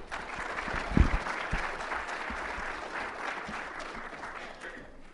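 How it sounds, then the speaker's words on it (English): Warm audience applause for a speaker at a security conference, a steady spread of clapping with a few louder nearby claps and a thump early on, fading at the end. "So, warm round of applause,"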